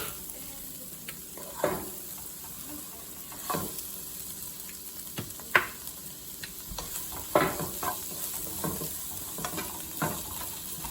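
Sirloin steak sizzles steadily in a hot pan, with occasional scraping and stirring knocks punctuating the continuous frying hiss.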